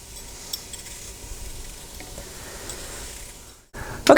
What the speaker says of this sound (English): the onions and celery are nice and sauteed